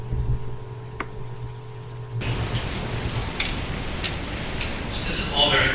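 Insect stridulation at full speed arrives after a quiet, humming start as a dense, hissing buzz with sharp ticking clicks, close and fairly loud to the end.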